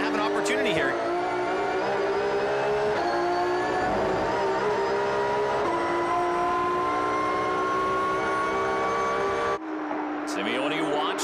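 Porsche GT3 Cup race cars at Mont-Tremblant roar loud and close with a sustained high engine wail and gear shifts, rising then cutting off near the end, with voices talking over the racing noise.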